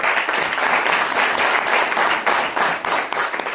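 An audience claps for a businessman at a motivational talk, a steady burst of applause from many hands, fairly loud and close, with no speech over it.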